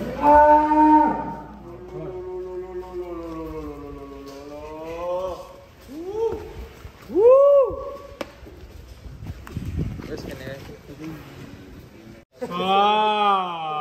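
Huge one-ton cattle lowing inside a barn, several long drawn-out moos, loud and close, one after another with pauses between, faint background noise and brief voices.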